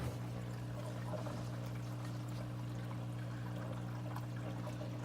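Water trickles and splashes steadily through the sump filtration of a 90-gallon African cichlid aquarium, a faint continuous pour layered over a low pump hum.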